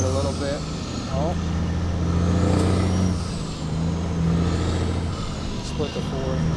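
A Kenworth W900 truck accelerates in third gear while pulling barriers on a New Jersey highway, its steady low diesel drone rising under a person talking nearby.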